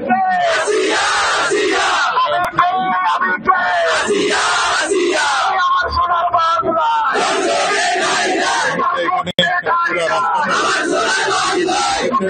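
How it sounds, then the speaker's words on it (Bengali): Protest crowd on a street chanting slogans in loud, rhythmic bursts of massed voices, demanding execution of rapists, continuous and near with brief pauses between chants. "তারা এখনো কিন্তু স্লোগান দিচ্ছে"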